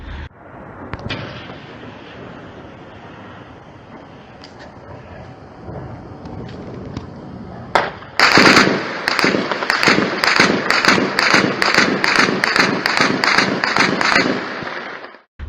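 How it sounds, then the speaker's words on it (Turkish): Rapid bursts of sharp gunfire cracks ring out late at night after a stretch of quieter background noise, loud and repeated, near the Turkish border at Ceylanpınar, Şanlıurfa. "gece geç saatlerinde silah sesleri yükselmeye başladı"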